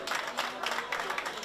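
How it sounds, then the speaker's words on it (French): An audience claps warmly at a chef's chocolate demonstration, a dense, steady patter of many hands filling the short moment with no voices over it. "On l'applaudit."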